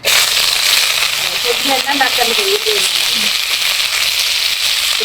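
Steady loud sizzling of green chilies, onion and curry leaves frying in hot oil, with a voice talking briefly over the crackle.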